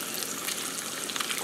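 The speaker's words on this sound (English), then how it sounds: "Let me turn my water down just a little bit." A kitchen tap runs in a steady, close gush of water, an unbroken splashing stream with slight fluctuations.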